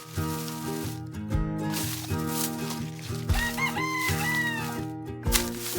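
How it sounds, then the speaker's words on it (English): A rooster crows over a steady bed of cheerful children's music, its drawn-out call rising and falling in the middle of the stretch, fairly clear but partly blended with the tune and no talking. "I hear a rooster."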